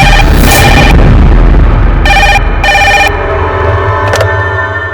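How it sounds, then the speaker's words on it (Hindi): A loud telephone bell rings in repeated bursts, its metallic trill cutting out between rings, with a low rumble underneath. "किस किस को फोन करेंगे"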